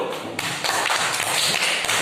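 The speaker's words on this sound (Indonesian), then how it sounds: "kita berikan tepuk tangan dulu" Classroom students clapping together in a short, dense burst of hand claps, close and fairly loud, with no talk over it.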